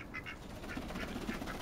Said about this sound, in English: This is what happens when I come home every day. Oh, ducks!